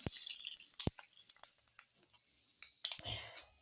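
Bay leaf and panch phoron sizzling in hot oil over caramelised sugar, a faint hiss with small crackling pops and a few stirring clinks, quiet and close.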